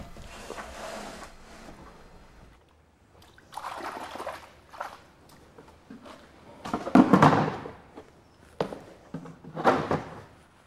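White fine earthstone clay is mixed with water, giving intermittent wet sloshing and squelching bursts that grow louder toward the end, with quiet pauses between.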